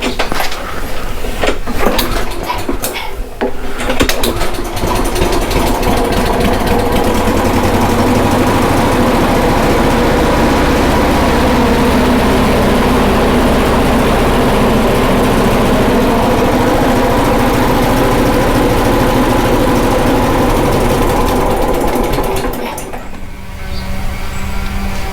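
A Briggs and Stratton small engine runs at low RPM, apparently without its governor working, giving a loud, close, continuous chugging drone that holds steady for about twenty seconds before briefly changing near the end; no one speaks.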